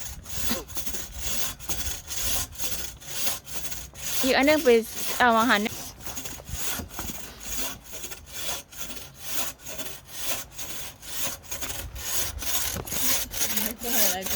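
Rapid, regular back-and-forth rasping of a hand saw cutting firewood, continuing steadily while a person talks partway through.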